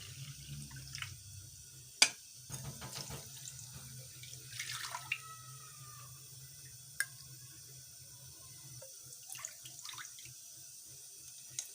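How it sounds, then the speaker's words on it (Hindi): Water is poured into semolina in a kitchen while making halwa, a faint trickling and splashing with occasional sharp drips and clinks, quiet and close, with no talk. "सबसे पहले ये पानी डालते जाएंगे इसमें।"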